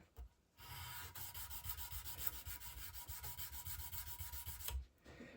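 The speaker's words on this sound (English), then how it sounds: "so now we're down to the polishing part" Stainless steel guitar frets being polished by hand, a steady continuous rubbing and scrubbing with a rhythmic back-and-forth pulse, close and fairly quiet, running for several seconds alone before stopping.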